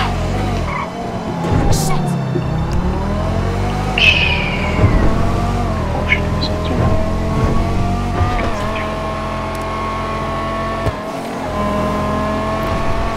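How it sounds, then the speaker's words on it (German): Banshee 900R supercar in GTA 5 Online, engine revving with rising and falling pitch sweeps, loud and close, with brief tire squeal around the middle and steady driving noise throughout, no talk. "Immer deutlich krachiger, deutlich heftiger, der Motorsound."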